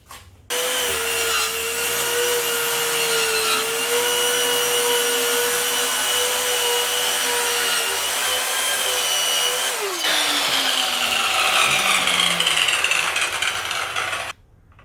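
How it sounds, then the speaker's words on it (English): A Craftsman CMES 500 circular saw whines loudly as it cuts through a piece of wood, a steady high-pitched motor drone with a continuous rasp of blade on timber, then the pitch drops as the cut ends and the motor winds down, with no talking. "So with this saw I was able to cut this piece of wood like I was cutting the butter."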